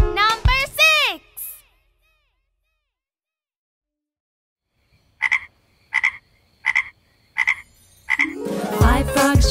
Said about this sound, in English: 5 frogs I can count.